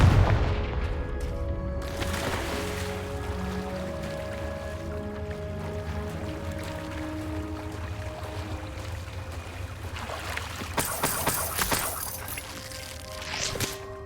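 A Confringo spell blast in a Harry Potter video game, a heavy boom at the start followed by tonal magical effects and a sharp crackling burst near the end.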